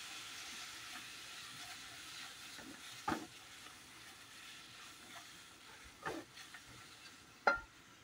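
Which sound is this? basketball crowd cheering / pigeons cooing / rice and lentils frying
rice and lentils frying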